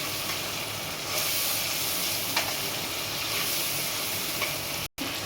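Water and chopped tomato land in frying chilli powder for a brinjal curry, a steady loud sizzle and steamy hiss with faint stirring scrapes, continuous throughout and cut by a brief dropout near the end.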